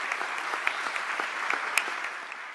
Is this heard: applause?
yes